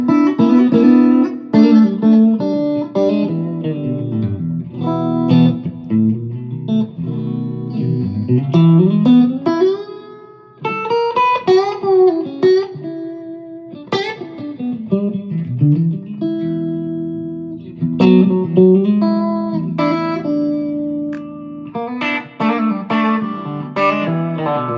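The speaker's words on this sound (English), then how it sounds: "I got a little more reverb on today." Stratocaster electric guitar playing a loose jam with reverb on it: chords and single-note melodic runs that sustain and ring out, with brief gaps between phrases, up close and without talk.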